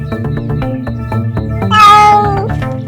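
A kitten meows repeatedly, close and clear, with several short mews followed by one longer, louder cry, and no one speaks.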